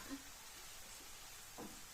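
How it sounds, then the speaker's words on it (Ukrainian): Carrots fry in oil in a pot while eggplant caviar is prepared at home. The sizzle is a faint, steady hiss with a few soft knocks. "додаю ще олії і буду смажити моркву"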